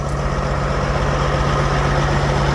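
A Peterbilt truck with a newly installed engine from an 800-plus-horsepower setup, idling with a steady low, loud rumble and an even hum throughout, no voices.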